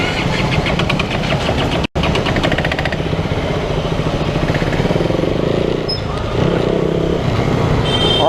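A KTM Duke 200 motorcycle with a broken clutch wire runs steadily nearby, a continuous throbbing single-cylinder engine note with a brief dropout, loud and constant throughout.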